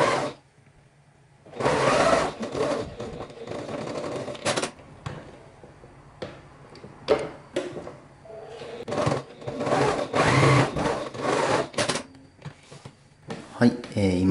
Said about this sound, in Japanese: 反対側も同じように縫っていきます。